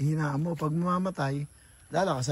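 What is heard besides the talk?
No distinct noise like a dog, phone or traffic.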